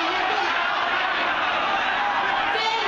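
Protesters occupying the Congress (Legislative Yuan) building in Taipei make a dense, continuous crowd roar of many voices with shouts and yells, steady and loud throughout, with no single voice standing out.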